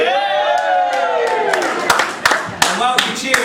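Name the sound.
wedding guests cheering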